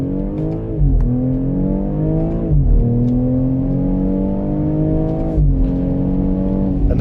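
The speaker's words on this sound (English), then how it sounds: "That was me easing into full throttle in the midst of first gear because it is winter time" A BMW X3 M40i on winter tires pulls hard through first gear on a snowy road, its engine note rising steadily with sharp drops at each shift, loud and continuous from inside the cabin.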